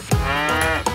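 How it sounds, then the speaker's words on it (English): A cartoon cow gives a single drawn-out moo in a children's farm-themed nursery rhyme animation, loud and close with a tonal, droning quality. "Cow,"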